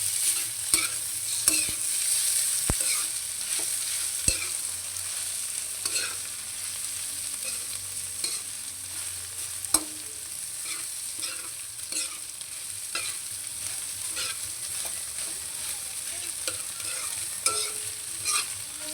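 Egg with carrots frying in a pan, seasoned with salt and a little soy sauce, sizzling steadily while a utensil stirs and scrapes, with sharp clinks against the pan throughout.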